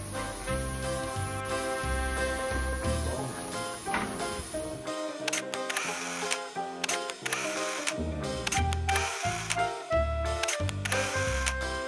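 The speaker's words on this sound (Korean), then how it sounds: "사진 한번 찍어야지" A camera shutter clicks while posing for a photo at a repair shop handling a BMW 520d G30 diesel after a misfuelling, with several sharp clicks under loud, continuous background music.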